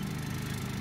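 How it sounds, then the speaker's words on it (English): A lawn mower cutting a baseball field drones steadily with a continuous low engine rumble, close and unbroken. "this is a video of my wife just mowing the baseball field."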